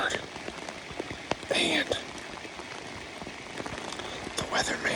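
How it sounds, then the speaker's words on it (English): Heavy rain falls steadily outdoors in Indiana woods during an archery hunt, a dense constant hiss with scattered drop hits, while a voice speaks briefly over it. "It's raining really hard."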